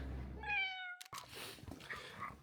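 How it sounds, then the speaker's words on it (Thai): A cat on the Great Wall of China gives a single clear, rising meow, close and fairly quiet, followed by soft outdoor noise and handling sounds. "ที่นี่แมวเยอะมากครับผม"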